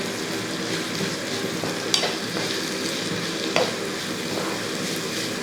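Onions sizzle steadily in hot oil in a kadai for chicken, with a spoon stirring them and two sharper clinks of metal against the pan. The frying stays close and even throughout, with no voices.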